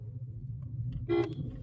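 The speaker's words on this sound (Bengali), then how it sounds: "সামনে লোক দেখলে একটু হর্ন দেবেন" Car horn giving a short, clear honk while the car rolls along a road, rising briefly above the low engine rumble.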